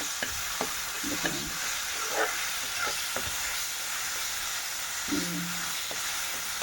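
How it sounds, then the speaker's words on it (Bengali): Tengra fish frying in oil with spices and salt, a steady bright sizzle broken by intermittent scraping knocks of a spoon stirring in the pan, close and continuous without talk. "মশলার সঙ্গে ভালো করে কষাবো।"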